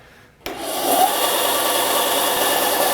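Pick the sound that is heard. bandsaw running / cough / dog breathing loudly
bandsaw running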